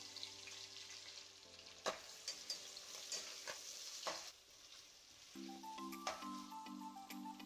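Whole spices crackle and sizzle softly in hot oil for chicken pulao, with sharp spits and pops over a faint sizzle, and a steady tonal hum present at the start and again near the end.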